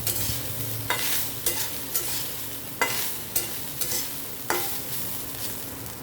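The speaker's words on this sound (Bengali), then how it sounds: "নারকেলটা একটু ভাজা ভাজা হয়ে গেলে আমি এর মধ্যে ডালটা দিয়ে দেবো।" Grated coconut stir-fried in a pan for chana dal, with rhythmic scraping strokes of a spatula about every half second over a soft, continuous sizzle, heard close and alone.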